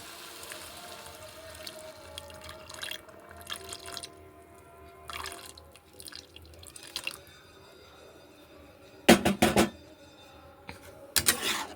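Milk poured onto fried grated carrots in a pan for carrot halwa, quiet intermittent splashing and bubbling with a few louder bursts of liquid near the end.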